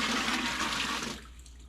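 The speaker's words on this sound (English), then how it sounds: "So I'm gonna add some filtered water to this." Filtered water pours in a steady, rushing stream into the reservoir of a Dr. Prepare nugget ice maker, close and loud, then tapers off into quiet trickles near the end.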